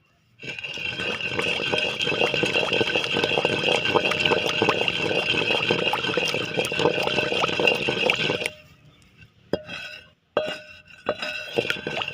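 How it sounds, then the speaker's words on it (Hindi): Water poured little by little into red chilli chutney, a loud continuous splashing and clinking for several seconds that stops abruptly, followed by a few sparse clinks and stirring sounds. "थोड़ा थोड़ा करके इसमें पानी ऐड करते जाएंगे"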